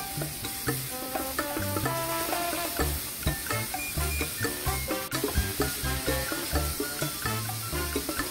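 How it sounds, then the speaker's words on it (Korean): Marinated meat stir-frying over high heat in a pan, a loud steady sizzle broken by rhythmic scraping and tossing strokes from a utensil, close and continuous with no talking. "양념을 해둔 고기를 넣고 볶아줍니다. 이때 불은 무조건 센 불."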